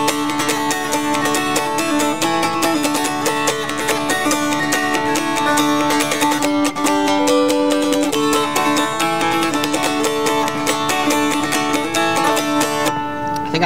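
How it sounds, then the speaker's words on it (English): A mountain dulcimer, the traditional folk instrument, is played in a steady strummed tune with bright sustained plucked strings and a droning bass, loud and continuous throughout without talk. "they think of the mountain dulcimer, which is really kind of a more traditional folk instrument from this region"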